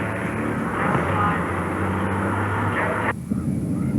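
A jet car's engine roars loud and steady with a deep rumbling drone at a drag strip for the first three seconds, then drops off sharply, leaving a lower, rougher rumble.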